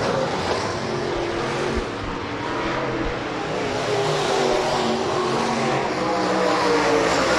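Late model race cars roaring through a heat race at Rapid Speedway, a dense, continuous engine howl from the pack that swells slightly as they pass, with no voices.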